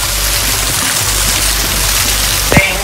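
Water pours down from a waterfall in a loud, steady, close rush, with a brief voice near the end.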